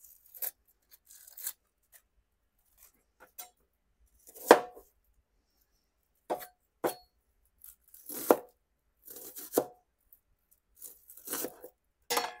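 A knife chopping onion on a board while a spiced pickled-egg brine is prepared for canning, a series of sharp, close cuts in short irregular bursts with quiet pauses between them and no talking.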